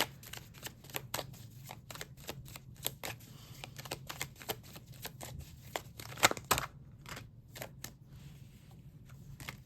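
Tarot cards shuffled and drawn by hand, soft close-up flicks and riffles in irregular bursts, with papery slaps and quiet pauses between.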